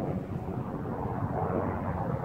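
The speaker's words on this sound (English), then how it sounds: "There's a search and rescue helicopter flying by really low right here." A search and rescue helicopter passes low overhead, a steady, loud broadband rotor and engine roar with some wind buffeting, holding constant throughout without any voices.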